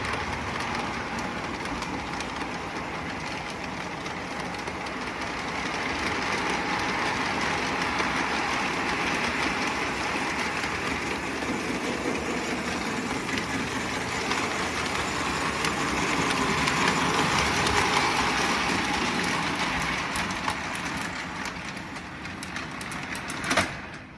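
A small K-Line model train backing onto a siding rumbles and hums continuously, its steady mechanical whir swelling slightly louder before easing off near the end.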